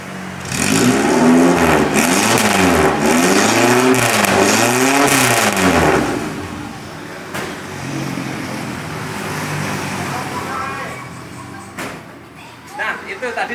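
A 1995 Suzuki Katana motorcycle with a full straight-pipe exhaust revs loudly in rising and falling swells for several seconds, then drops to a rougher, quieter idle with a few sharp blips.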